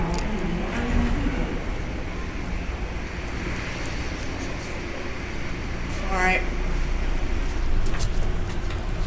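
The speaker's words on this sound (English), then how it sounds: "This processor is very noisy." Electrical processor noise from car 31 of the Denver International Airport train running between the A and C gates, a steady loud hum and whine under constant rumble, with a brief voice speaking.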